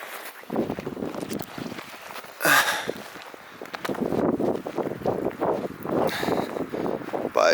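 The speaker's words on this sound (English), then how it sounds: "it's windy and it's snowing" Gusty wind buffets the microphone in rough, uneven bursts during light snowfall at a spring campsite in Algonquin Park, with faint crunching steps underneath.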